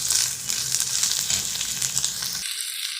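Ginger garlic paste frying in a pan, a soft steady sizzle with faint stirring, no voices.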